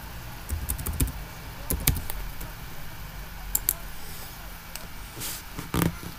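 Fingers tap out a username and password on a computer keyboard in quiet, irregular bursts of light clicks, with soft room noise between the keystrokes.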